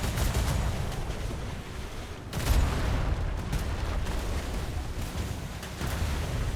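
Sustained cannon fire in a video game naval battle, a dense rumbling barrage of overlapping booms with a heavier blast partway through, loud and continuous throughout.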